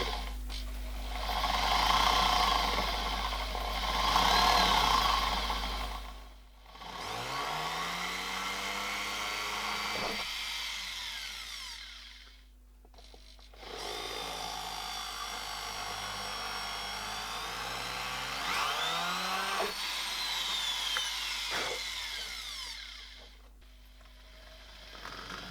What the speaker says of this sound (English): So I'm using my pedestal drill.